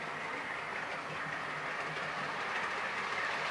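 A model train runs along a model railway layout, a steady close rumble with light rhythmic clicking that holds at an even level throughout.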